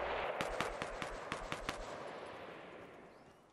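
Sniper and rapid gunfire in the video game Fortnite cracks out in a quick burst of about seven sharp shots. The shots then fade into a decaying, noisy rumble, with no voices heard.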